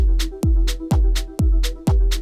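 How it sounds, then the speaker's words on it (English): On a Blackbox sampler, a short two-note arpeggio covering half of a four-beat bar loops over a steady low tone. Each cycle lands with a punchy thump at an even, quick pulse, close and clear. "It's different with another arpeggio that only plays half of a bar, of a 4-beat bar, so 2 notes."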